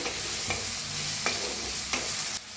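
Chopped onion, green chilli and asafoetida fry in a pan for a ridge gourd vegetable dish, a constant close sizzle broken by a few sharp spoon scrapes against the pan, no voices.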